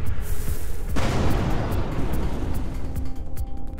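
Ship cannon fire in the space combat game Everspace 2: dense, rapid booming shots over a loud roar, continuous for several seconds.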